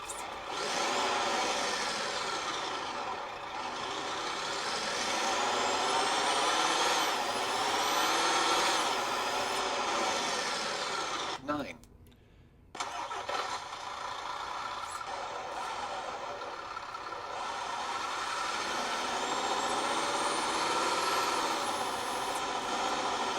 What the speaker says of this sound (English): There's a diesel.